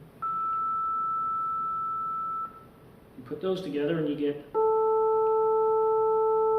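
A synthesized steady electronic tone sounds alone, then, after a brief stretch of talk, returns as a richer sustained tone with a quieter third harmonic added, giving a reedy, harmonica-like buzz.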